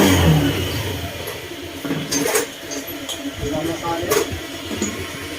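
A Honda Airblade 150 scooter engine cranks, catches and settles into a steady idle after a stall, its running note and faint hiss holding close and continuous, with a brief rev swell midway and speech over it.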